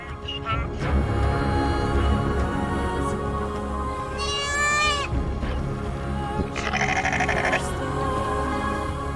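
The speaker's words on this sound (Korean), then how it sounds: "가축들의 울음소리로 깨어나는 마을의 아침." Goats and other livestock bleating at morning in a Borana village in the Ethiopian grassland, several loud overlapping bleats over a steady din of animals, close by.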